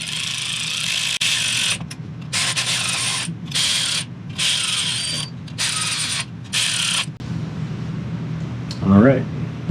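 Ratchet running down brake rotor bolts on a Beta 300 dirt bike front wheel, several loud bursts of rapid clicking separated by short pauses, then a brief softer sound near the end.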